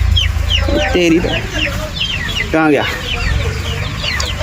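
Chickens clucking on a desi poultry farm, busy overlapping clucks and squawks close by over a steady low rumble, with a person speaking briefly.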